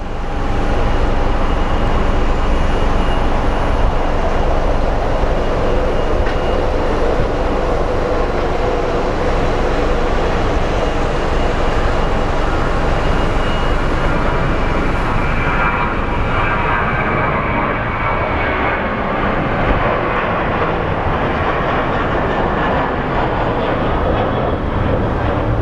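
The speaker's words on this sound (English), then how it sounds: "737, or no, A321 headed to Tucson" An Airbus A321 jet airliner heading to Tucson from Sky Harbor International Airport produces a loud, continuous rumbling roar that holds steady for the whole stretch with no voices.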